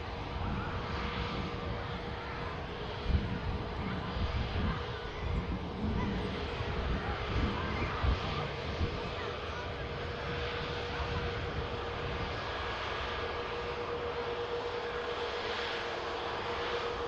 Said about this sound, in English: Scandinavian looks like it's going to be the next departure